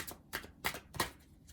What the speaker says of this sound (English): I'm also being told that I should shuffle the other decks